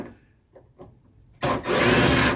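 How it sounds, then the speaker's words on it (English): Unscrewing screws on the antenna of a 1985 Mercedes 300D: a few faint light taps and scrapes, then a sudden loud continuous whirring grind, like a power driver, running close by to the end. "First we're going to go ahead and unscrew this one."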